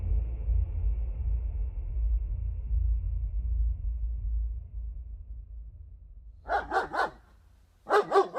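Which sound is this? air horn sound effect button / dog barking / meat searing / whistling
dog barking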